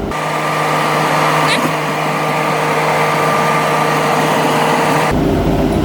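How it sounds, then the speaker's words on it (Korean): An LS XR4160 tractor without a cab runs loudly and steadily while rotary tilling, a constant hum close by, with no pauses throughout. "캐빈이 없고 외부형으로 있다 보니까 엔진 소리가 굉장히 이렇게 시끄럽게 들리네요"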